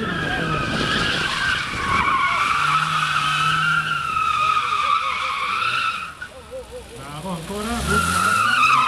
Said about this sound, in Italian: riesce a equilibrare sterzo, acceleratore, freno per far fare un'evoluzione a questa bellissima BMW